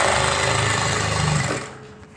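A sewing machine runs steadily and loudly while basting fabric onto piping for a kurta, a continuous whirring drone that slows and fades near the end.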